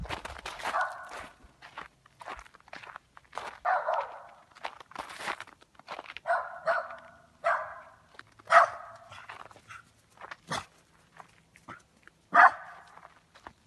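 A dog barks outdoors at night near a camping van, with several sharp separate barks spread over the stretch amid footsteps and rustling, fairly close and without talk.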